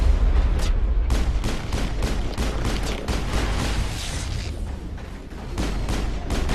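Weapons fire in Mass Effect, a loud, steady barrage of rapid shots with heavy thumping impacts, dense and continuous.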